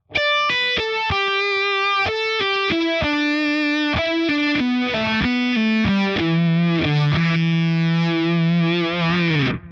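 A distorted electric guitar plays a fast stoner rock solo phrase of quick picked notes, descending and then sliding into long sustained bends, loud and up close.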